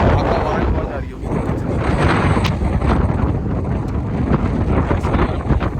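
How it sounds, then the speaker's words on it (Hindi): Strong wind buffets the microphone outdoors in Edinburgh, Scotland, a loud continuous roar with gusting rumble that dips briefly before surging again, heard alone without talk. "बहुत तेज हवा चल रही है।"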